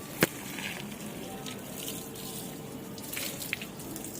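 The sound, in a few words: water poured onto garden plants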